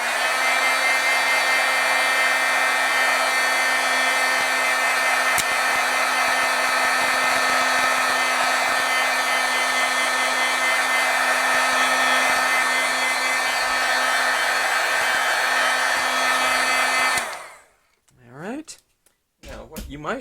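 A handheld heat tool blows a loud, steady whirring hiss while heat-setting stamped ink on a glossy card, running continuously for about seventeen seconds before switching off, then quieter faint handling sounds follow.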